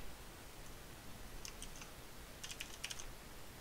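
Keystrokes on a computer keyboard come in two short bursts of quick, light clicks, faint and close over a steady low hiss, with no talking.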